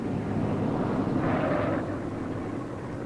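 Warplanes returning to base and landing during a wartime air operation, a steady broad roar of aircraft engines with a swelling drone midway, continuous and moderately loud with no talk.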